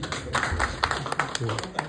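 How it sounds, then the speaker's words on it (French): Audience applauding at a community gathering in Kayes, a run of sharp, near handclaps in an uneven rhythm, with a voice speaking over the clapping. "Donc, applaudissez pour eux."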